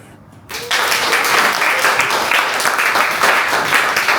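An audience at a real estate panel discussion in Jamaica bursts into loud, steady applause that starts suddenly and holds at full strength with dense, overlapping claps.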